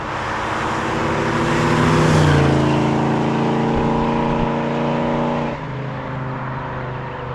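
A 1968 Mustang Fastback's 289 V8 engine runs loud and close, its deep harmonic rumble rising as the revs climb, holding steady, then settling back to a lower idle.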